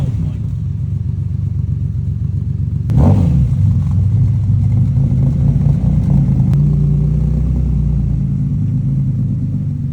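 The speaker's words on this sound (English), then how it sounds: "Gonna hear a cold start." A 500 hp turbocharged Honda S2000 engine cold-starts with a sudden loud catch partway through, then settles into a steady, rumbling idle close by.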